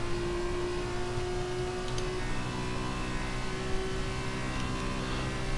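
Continuous near, loud engine drone from a race car lapping the French GP circuit in a racing game, holding a steady pitch with faint tire and mechanical noise beneath, no talking.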